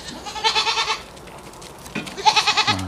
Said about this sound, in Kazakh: Мына ешкілер мен артынан жүр қазір.